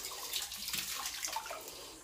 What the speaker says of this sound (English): okay, we pour one bottle of anti-chlorine, okay, pour one bottle first